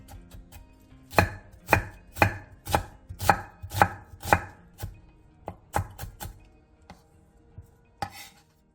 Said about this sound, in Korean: 당근 3장과 양파 2분의 1개를 잘게 다져주세요.